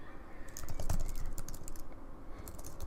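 Steady typing on a computer keyboard, with close, quick key clicks in an uneven rhythm over a constant background hum.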